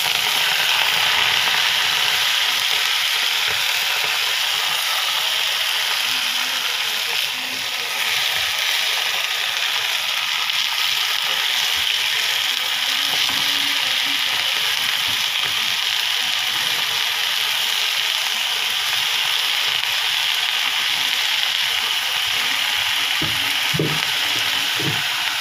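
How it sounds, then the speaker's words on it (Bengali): Leafy greens frying in a pan with garlic that has turned red-brown, giving a steady, dense sizzle that holds unbroken throughout, dotted with faint clicks and scrapes of stirring. "রসুনটা লাল হয়ে গেছে, আমি শাকগুলি দিয়ে দিব।"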